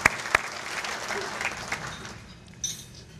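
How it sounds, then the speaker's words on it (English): Banquet guests at a chamber of commerce awards dinner applaud the honorees, a broad wash of clapping from a crowd with a few sharper claps up front, fading slightly toward the end. "We give them all another round of applause,"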